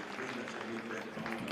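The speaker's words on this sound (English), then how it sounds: "No, there is applause going up." Indoor athletics crowd applauds after a long jump attempt at a combined events meet in Tallinn, a soft, steady wash of clapping heard from a distance.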